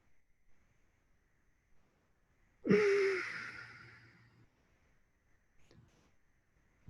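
One deep breath taken during a meditation session, a single audible inhale and exhale of about two seconds, near and clear, set against near silence with a faint soft sound afterward.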